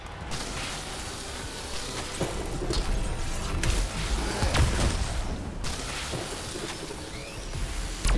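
A thunderstorm rages in the video game Anthem, with steady rain hiss under sharp lightning cracks and booming thunder claps that strike several times across the stretch.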